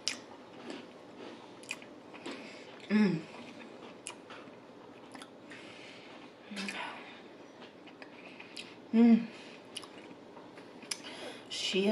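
Close, soft chewing and biting of spicy tuna sushi at a large sushi feast, with wet squishy mouth sounds and a few louder crunchy bites spaced several seconds apart.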